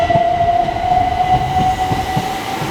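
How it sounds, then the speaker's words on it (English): A train rolls past close by in a loud, steady rush, with a sustained tonal whine and faint rhythmic clacking of the wheels on the rails, and no voices. "Oh man, I think that was my train."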